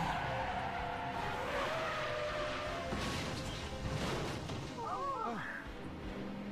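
Tires screech and skid as a cartoon car brakes hard in the Justice League animated series, with a vehicle of nuns about to crash. A steady roar of engine and scene noise runs throughout, and a sharp, wavering squeal rises near the end.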